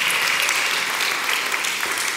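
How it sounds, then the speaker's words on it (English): A room full of people at a gathering breaking into a round of applause, dense, even clapping that holds steady throughout, with no voices over it. "let's give that a round of applause"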